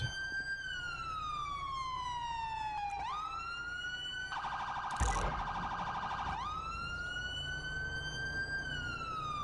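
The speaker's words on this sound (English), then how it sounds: "Let me turn my freaking sirens off." A police car siren in the video game LSPDFR wails loudly and continuously, sweeping down and up in long cycles, with a brief burst of a faster yelping tone in the middle.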